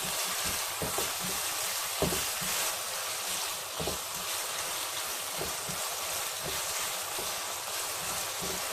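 Eggs, black pepper, vinegar and soy sauce frying in a pan for egg fried rice, a continuous close sizzle with soft periodic scraping knocks from stirring, alone without talk.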